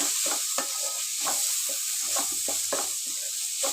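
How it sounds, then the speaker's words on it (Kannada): Garlic paste and capsicum sizzle steadily in a frying pan while a utensil stirs through them, giving soft scraping strokes over the constant frying hiss. "ಬರೀ ಬೆಳ್ಳುಳ್ಳಿ ಪೇಸ್ಟ್ ಮಾತ್ರ ಹಾಕ್ತಾಯಿದ್ದೀನಿ ಅದು ಚೆನ್ನಾಗಿ ಮಿಕ್ಸ್ ಮಾಡ್ಕೊಳ್ಳೋಣ"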